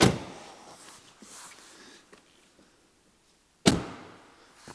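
A Tesla Model Y door slams shut with a sharp, loud thud, followed by a brief settling rattle. Earlier, a fainter knock and some soft handling noises come from inside the car.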